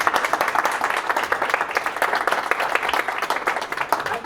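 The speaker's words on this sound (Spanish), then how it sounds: "un aplauso para Edu" Audience applause for Edu, a speaker introduced at a talk on good programming practices, a dense steady wash of many hands clapping close by, loud and sustained throughout with no voices over it.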